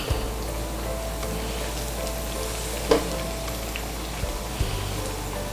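Onions fry in hot oil for a chicken roast, a steady crackling sizzle with a single sharp clatter midway and a couple of small knocks toward the end.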